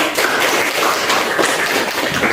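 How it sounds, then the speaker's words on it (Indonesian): Steady applause from a group, a dense wash of hand claps lasting a couple of seconds without a break. "Oke, berikan tepuk tangan."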